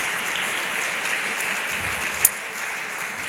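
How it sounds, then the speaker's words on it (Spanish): Church congregation applauding together, a steady wash of clapping from many hands filling the room, with one sharp louder clap standing out near the end. "Dale un fuerte aplauso a Cristo,"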